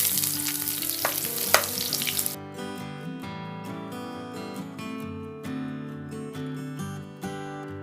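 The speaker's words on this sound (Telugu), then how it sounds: "ఉల్లిపాయల్ని లైట్ బ్రౌన్ కలర్ వచ్చే వరకు వేయించాలి" Onions fry in hot oil with cashews, biryani spices and bay leaf for tomato rice, giving a loud, steady, close sizzle that crackles throughout.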